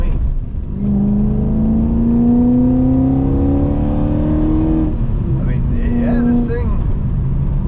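A BMW E34 540i with its M60B40 V8 engine revs strongly as it accelerates, a loud, steady, rising engine drone climbing through the gears, with a voice briefly speaking over it toward the end.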